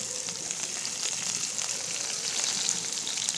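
Garlic fries in hot oil with a steady, dense sizzle and crackle that stays loud and even throughout, with no talking.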